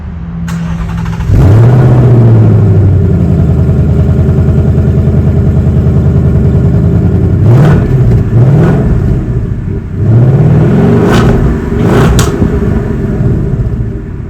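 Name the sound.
2024 Ford Mustang with MBRP exhaust revving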